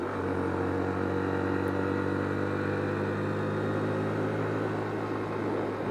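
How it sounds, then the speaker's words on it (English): A car engine straining hard up the very steep Dennytown Road near Cold Spring and Garrison, a steady, loud, high-revving drone with a low hum throughout and no breaks, close and unbroken. "I feel like I'm about to hit the rev limiter."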